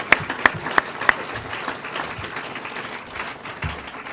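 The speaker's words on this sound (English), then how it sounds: "So I would like a round of applause for them." Audience applause at a political rally launch, a sustained crowd clapping wash with a few sharp near claps standing out early, then slowly thinning, with no voices over it.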